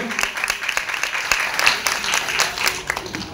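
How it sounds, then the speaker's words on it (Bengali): An audience claps at the Ramprai Fashion Show 2025, a brisk burst of many hands at close range that carries on steadily for a few seconds with no voices over it. "সো জোরে হাততালি"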